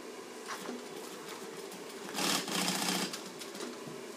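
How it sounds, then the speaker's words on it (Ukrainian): A sewing machine whirs in quick bursts while stitching tactical vests in a workshop, a close mechanical buzz that swells louder for a second near the middle. "А покажіть, будь ласка, як ви шиєте?"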